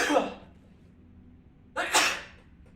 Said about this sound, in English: I sometimes sneeze very loudly